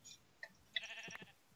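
A sheep in the Minecraft video game gives a faint, short synthetic bleat near the middle, preceded and followed by soft clicks and light game noise.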